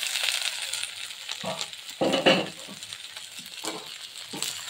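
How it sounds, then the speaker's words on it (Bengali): Radish greens and vegetables fry in a pan over low heat, a soft steady sizzle with occasional scrapes and clinks of stirring, close and fairly quiet. "এই দেখো সবজিগুলো কি সুন্দর ভাজা হয়ে আসছে"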